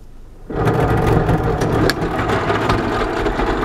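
A Toyota Corolla with a drivetrain fault running while put into reverse, its engine starting up abruptly and then holding a loud, rough, broadband drone with rattling grind throughout.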